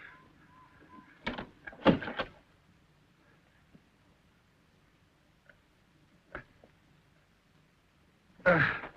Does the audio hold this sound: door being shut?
yes